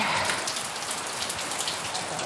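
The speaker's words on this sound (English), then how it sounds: "It's raining now" Rain falls outside in a steady, dense patter with close drops striking a surface, continuous and moderately loud, with no voices.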